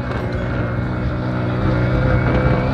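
Hero HF Deluxe motorcycle engine pulling hard in second gear while off-roading through a rough pit, a loud, steady, continuous drone close by with no talk over it.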